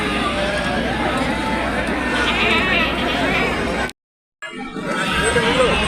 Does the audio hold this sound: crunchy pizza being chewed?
no